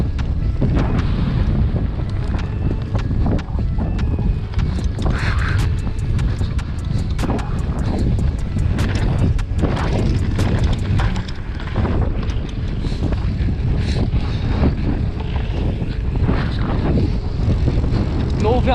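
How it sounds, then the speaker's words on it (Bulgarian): Strong wind buffeting a microphone outdoors, a continuous low roaring rumble with gusty surges throughout and faint speech partly buried beneath it. "Много вятър, бе, брат."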